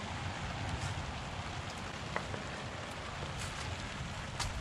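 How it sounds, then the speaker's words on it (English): Steady rain from an approaching hurricane falls continuously, a dense even hiss with scattered drop taps, with no voices present. "The rain's coming steady."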